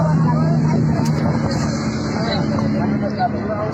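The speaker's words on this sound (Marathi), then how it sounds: "गाडीचा आवाज इग्नोर करा तुम्ही" Engine drone of a bus cruising a highway between Nagar and Kalyan, a constant low hum with road noise and faint higher whine, heard from inside the cabin and steady throughout.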